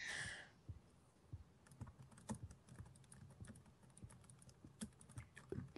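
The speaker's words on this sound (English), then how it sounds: "I hear you clicking." Rapid, close computer keyboard clicking while playing Minecraft Bed Wars, a steady stream of light taps and clacks with no talking over it.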